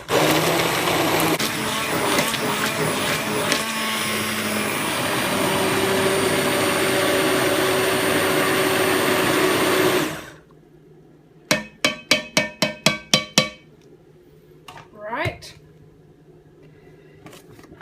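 An immersion blender whirs loudly and steadily in a heavy pot of sweetcorn chowder for about ten seconds, then stops, followed by a quick series of tapping knocks against the pot and a few softer clanks.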